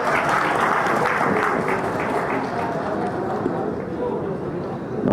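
An audience at a Telugu film pre-release event claps in a sustained burst of applause that gradually tapers off, dense and moderately loud, with crowd noise mixed in.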